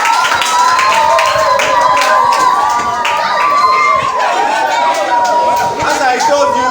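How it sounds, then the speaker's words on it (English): A group of children claps steadily for a girl in a classroom-style gathering, with chatter and voices mixed through the dense clapping. "So let's clap for her."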